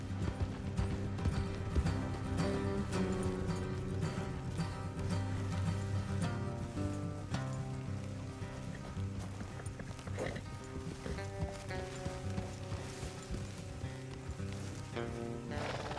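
Horse hooves clip-clop at a steady walking rhythm on a trail in Red Dead Redemption 2, quiet and continuous, with a soft background score underneath.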